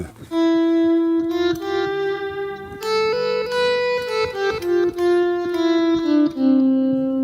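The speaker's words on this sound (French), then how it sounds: "ça, c'est un son que je pourrais assimiler un peu à un violon, à une petite flûte" Electric guitar run through an effects unit, giving a sustained, singing lead tone close to a violin or small flute, playing a continuous melodic line of held and sliding notes, loud and alone without talk.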